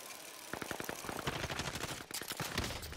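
Rapid gunshots crackle at a distance over a steady hiss in the Warzone battle royale shooter, a string of sharp cracks spread across a few seconds without any voices.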